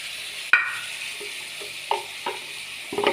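Ground chili paste added to a frying fish curry with ridge gourd, potato and pointed gourd: a steady sizzle of hot oil with a sharp splash as the paste goes in, then a few soft stirring clatters.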